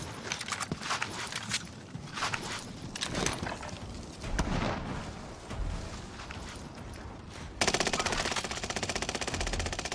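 Gunfire in Call of Duty Warzone, with scattered shots, footsteps and booms over several seconds, then a sudden loud rapid automatic burst that runs to the end.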